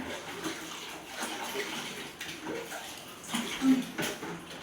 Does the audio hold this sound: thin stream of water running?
yes